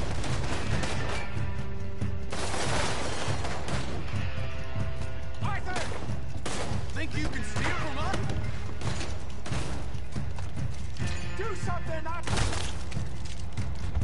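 Video game shootout with bursts of gunfire and crashing impacts mixed into a busy, loud soundscape, while several voices shout and talk over the action throughout.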